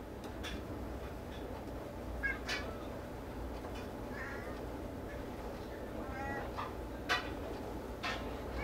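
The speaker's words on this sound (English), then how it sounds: "And I got a kitty cat that wants to say hello." A pet cat meowing indoors, several short faint meows scattered over a low steady background hum, with a person's voice occasionally heard softly nearby.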